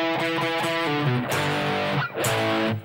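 Heavily distorted electric guitar plays a fast solo lick from a song, a dense run of quick picked notes with two brief breaks, loud and alone without talk.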